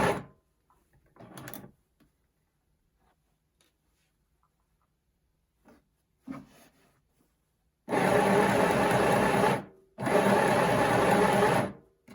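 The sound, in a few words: sewing machine stitching fabric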